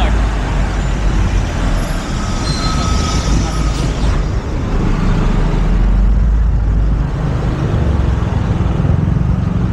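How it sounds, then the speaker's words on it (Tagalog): Road traffic noise fills a busy roadside: a constant loud rumble of passing vehicles and engines with a deep low drone, steady throughout with no clear pauses. "Traffic guys."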